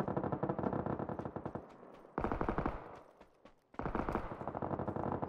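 Rapid automatic gunfire in the video game PUBG, two dense bursts of fast repeated shots with echoing tails, separated by a brief decaying pause, loud and close.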